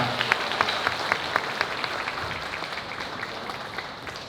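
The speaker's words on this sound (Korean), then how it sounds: "다시 한번 큰 박수 부탁드리겠습니다" Wedding guests in a hall give a big round of applause, a dense wash of clapping with a few sharper individual claps standing out near the start, then steadily tapering.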